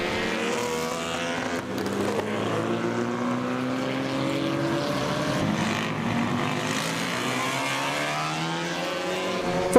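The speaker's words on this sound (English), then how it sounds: "First away are the cars with the smallest motors." Small-engined vintage race cars pulling away from the grid at Summit Point, West Virginia, their engines revving hard in a loud, rising drone with overlapping motors climbing in pitch.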